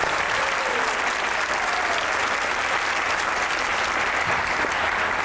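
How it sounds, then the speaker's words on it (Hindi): Dense, steady audience applause welcomes a poet onto the stage of a comedy show, filling the whole stretch at close range with no clear speech over it. "आपकी भरपूर तालियों में"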